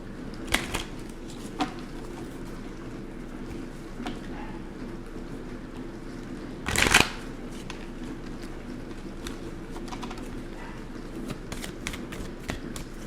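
A deck of tarot cards is shuffled quietly in a calm room, with soft riffling and card taps scattered over the clip and one brief louder flurry midway.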